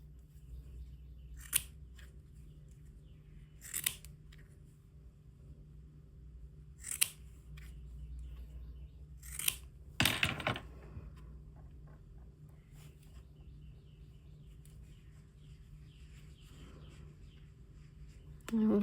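Scissors trimming needle-felted wool fur on a bunny figure, a handful of sharp isolated snips spaced a few seconds apart over a steady low background hum, close and clear.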